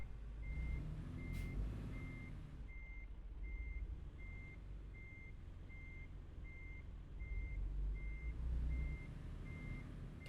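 A truck in a truck driving video game sounds evenly spaced reversing beeps over a low rumbling engine idle, the beeps steady and moderately loud throughout.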